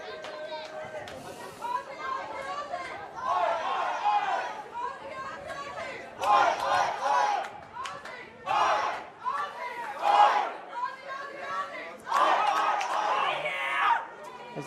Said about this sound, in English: As the crowd try and get themselves involved